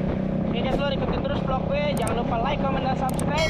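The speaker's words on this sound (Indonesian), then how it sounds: "Kebetulan ini udah pakai knalpot racing, mereknya Terminator." A 2017 Yamaha XMAX 250cc two-cylinder scooter with a Terminator racing exhaust rumbles steadily nearby, a continuous engine drone under someone talking over it.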